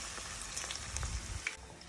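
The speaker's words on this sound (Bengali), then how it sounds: "এখন বেসন গুলিয়ে ভাজা শুরু করব" Gram flour batter onion fritters fry in hot oil with a steady, fairly faint sizzle and crackle, small pops scattered throughout.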